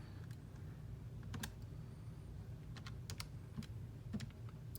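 Keys being typed on a calculator to enter a trigonometry expression, a few sparse light taps over a steady low background hum, no talking.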